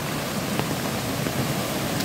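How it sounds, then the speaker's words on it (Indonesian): Heavy rain pours down continuously on a muddy village road, a dense, loud and uniform hiss with no voices heard. "Ya Allah, hujan sampai begini ya."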